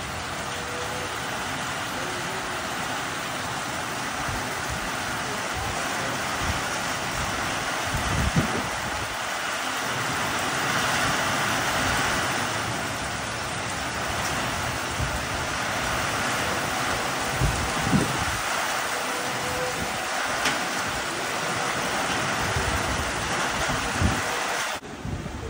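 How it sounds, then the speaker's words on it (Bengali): A hailstorm with heavy rain and thunder, heard as a steady, dense roar of falling rain and hail with gusty rumbling swells and a few sharper impacts throughout, close and fairly loud with no talking. "শিল পড়ছে,"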